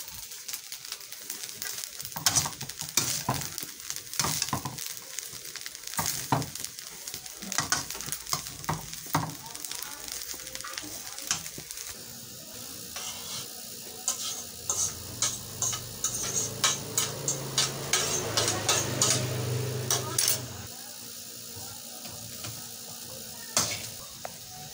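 Fried rice with mixed vegetables and scrambled egg crackles in a pan while a spatula taps and scrapes in a brisk, repeated rhythm; the sizzle swells louder partway through and carries on without speech.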